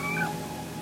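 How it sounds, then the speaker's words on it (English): A little kitten, a young female pet cat, gives one short, fairly close meow that rises and falls, followed by quiet room background. "Meowing."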